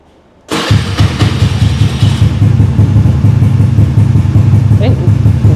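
Honda Scoopy scooter fitted with an aftermarket exhaust starts abruptly and runs loud and close, holding a rough, throbbing high idle with slight rev swells, the burbling exhaust note steady throughout with no voices over it.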